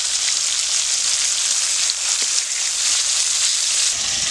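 Pangas fish sizzles in hot mustard oil seasoned with salt and turmeric, giving a steady, loud, hissing crackle that runs unbroken throughout.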